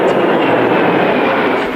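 Aircraft flying at an air show featuring historic and modern planes, heard as a steady, loud, broadband roar that holds unbroken throughout.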